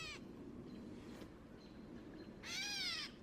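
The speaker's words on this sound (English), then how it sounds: "hear like a cat sound that's not quite a cat, but turns out it's this gray catbird" A gray catbird gives its cat-like mewing call: a brief faint note at the start, then a louder, clear, slurred mew near the end, close by and alone, with no talking.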